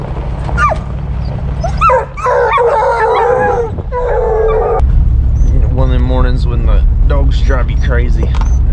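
A hunting dog chasing a squirrel outdoors yips, barks and howls in long wavering cries, loud and close over a steady low rumble, with a voice talking partway through.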